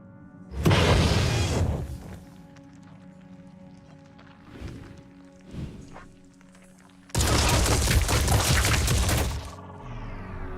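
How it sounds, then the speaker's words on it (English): Two loud bursts of gunfire from a game weapon aimed at an egg, each lasting over a second, with a quieter stretch of smaller impacts and ambient game hum in between. "Let's just come up here and shoot the egg."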